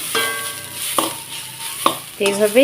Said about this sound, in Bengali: কচুটাকে কিন্তু এইভাবেই ঠিক নাড়াচাড়া করে লাল লাল করে ভেজে নিতে হবে